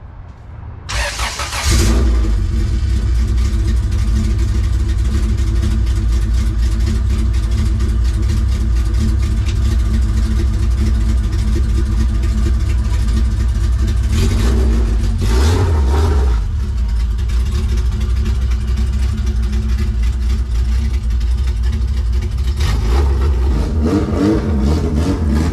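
A Honda B18C engine in an EJ8 Civic with no exhaust system fitted fires up, then idles loudly and roughly up close, broken by a couple of sharp revs.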